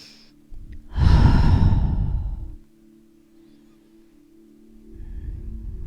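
One long, deep inhale-exhale breath during a slow yoga flow, with a close, loud airy rush lasting over a second, then quiet hum and a softer breath starting near the end.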